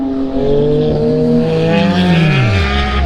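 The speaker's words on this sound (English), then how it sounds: "But look at that Porsche going around there." A Porsche race car laps Snetterton circuit during a time attack event, its engine loud and close with a rising then falling pitch as it passes and drops away, with no commentary audible.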